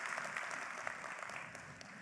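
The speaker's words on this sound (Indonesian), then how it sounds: "Tepuk tangan buat Riway Internasional" Applause for Riway International at a sales meeting, a faint, steady patter of clapping from a crowd that holds across the whole stretch.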